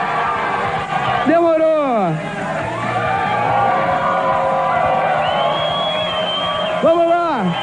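A studio audience at an MTV quiz show cheers with two bursts of sliding whoops and yells over a steady crowd murmur, and a voice speaks in between.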